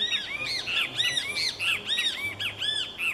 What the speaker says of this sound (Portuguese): O simpático bem-te-vi é uma das aves mais comuns que podemos encontrar nas cidades